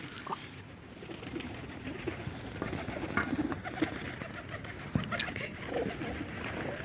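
A flock of pigeons coos and flutters outdoors in a continuous, fairly faint wash of soft cooing and rustling wings, with occasional sharper flaps and a low background murmur.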